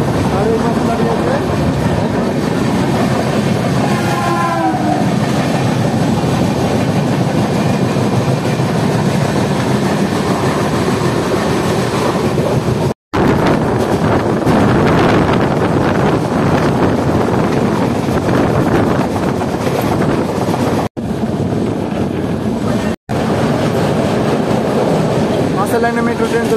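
Steady loud rumble and rush of the 15233 Darbhanga Maithili Express running, heard from onboard, with heavy wind buffeting and rattling throughout and a few sudden dropouts.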